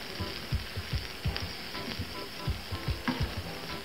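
Ham dropped into a hot pan sizzles and fries, a steady crackling hiss with soft stirring scrapes and pops over it, close and moderately quiet, no talking.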